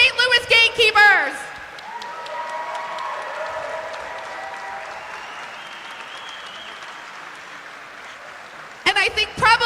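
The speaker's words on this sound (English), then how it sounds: "One more round of applause for the St." Applause and cheering from a crowd at the 2025 MRDA roller derby championships fill most of the stretch, loud and steady, with an announcer speaking over the start and end.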